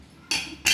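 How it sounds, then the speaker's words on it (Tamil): A pressure cooker lid is set onto a pot, giving two short metallic clanks a moment apart, close and fairly loud, with no voices. "இப்போ குக்கர் மூடியை போட்டு"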